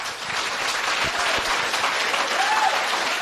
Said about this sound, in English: I expect all of you will give them a nice round of applause